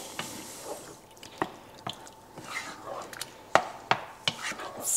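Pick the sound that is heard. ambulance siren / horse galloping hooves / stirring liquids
stirring liquids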